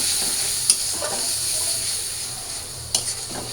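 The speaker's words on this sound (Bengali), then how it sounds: "তো শুটকির মধ্যে তেল মশলাটা ভালো করে কষায় আনি" Dried fish (shutki) and onion fry with spices in hot oil, giving a steady close sizzle with occasional clinks and scrapes of stirring.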